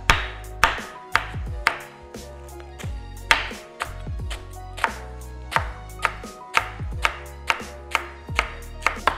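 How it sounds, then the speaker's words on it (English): Knife chopping through rolled-up lettuce on a cutting board for a taco salad, a steady series of sharp, close thuds and crunchy cuts repeating roughly every half second, with no talking. "chop down the center like that, take it, I like to roll it up, and then chop"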